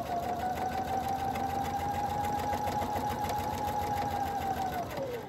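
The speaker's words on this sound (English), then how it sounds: "So now I am going to go ahead and sew these together, and I am just following the edge of my second ray." A sewing machine stitches quilted fabric rays together for a small mug rug, a steady close rapid whir with a constant motor hum that slows as the stitching stops.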